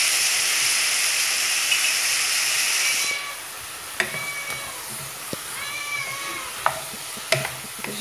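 A veal and potato stew simmers in a pot, seasoned with ground fennel and ginger, as a spoon stirs it; a steady broadband sizzle fades after three seconds into quieter bubbling with scattered scrapes and clinks of the spoon.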